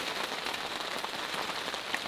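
Rain driven by strong wind pelts down at a campsite on a freezing mountain, a dense, constant hiss of drops striking nearby surfaces, loud and continuous with no voices.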